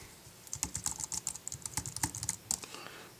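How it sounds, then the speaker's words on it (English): Fast, close keystrokes clatter on an Apple computer keyboard in an irregular rhythm, with no voices. "now let's try typing something on the keyboard"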